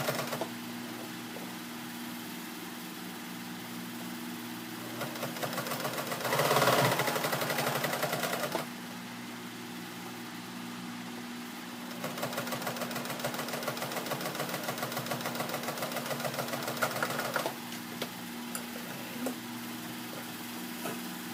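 Sewing machine stitching ribbon onto a denim apron made from old jeans, a steady mechanical whirr running through most of the stretch with brief louder bursts and pauses, no talking.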